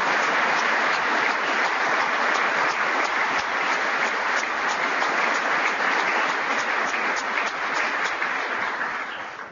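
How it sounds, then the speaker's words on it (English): Sustained, dense applause from a large audience at a crime reduction summit speech, filling the whole stretch at a steady level before tapering slightly at the end, with no speech over it. "Let's give these heroes a round of applause."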